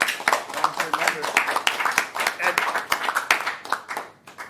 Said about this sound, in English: a round of applause to our volunteer members